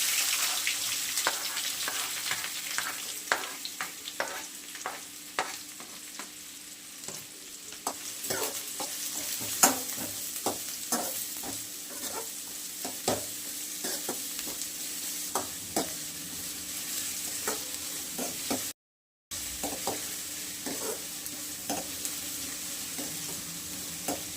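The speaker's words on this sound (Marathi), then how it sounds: "हा असा बारीक चिरलेला कांदा टाकून घेणार आहे ना" Finely chopped onion sautés in a pan for a dhaba-style rajma dish, with a continuous bright sizzle broken by frequent scraping stirs of a spoon, lasting a long stretch with one brief gap and no talking.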